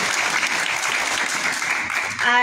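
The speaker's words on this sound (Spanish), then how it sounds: "Un aplauso fuerte para esta empresa" An audience at the Premio Tlaxcala a la Competitividad 2023 ceremony applauds an award-winning company with dense, steady, loud clapping, and a voice begins just at the end.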